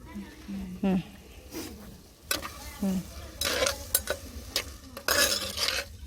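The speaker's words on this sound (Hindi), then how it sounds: "जब अच्छी सी सॉस बन जाए टमाटर की तब तक हम इसे फ्राई करेंगे" Tomatoes frying down into a sauce in a pan in a Sindhi village kitchen, with soft sizzling under a spoon stirring and scraping against the metal, plus occasional clinks, while someone talks over it.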